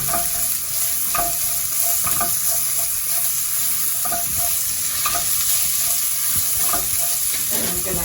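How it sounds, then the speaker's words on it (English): Half a white onion sizzles steadily in a hot pan as it cooks down, a continuous close frying hiss with occasional stirring scrapes and no voices over it. "half a white onion, and I'm going to just allow this to cook down, just to release those aromas."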